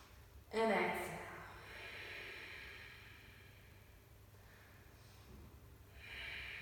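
During a yoga sequence, one sharp, breathy nasal exhale is heard early, close up, followed by quieter, fainter breathing against a low steady background hum.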